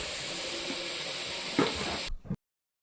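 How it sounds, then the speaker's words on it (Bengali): Rice boils in a lidded pot on a home stove, producing a soft, steady steamy hiss with a brief bubbling surge before it cuts off. "আর ভাতটা ফুটছে, উতল এসেছে, নামিয়ে দিয়েছি। ঢাকনাটা ফুটছে।"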